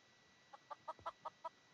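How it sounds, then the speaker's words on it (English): Chicken clucks from the Minecraft video game, six short, evenly spaced, faint clucks over quiet background hiss. "And a clucking chicken."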